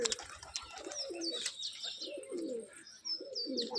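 A Turkish tumbler pigeon gives repeated low coos, along with some higher chirping calls, fairly close and quiet in an otherwise calm outdoor setting.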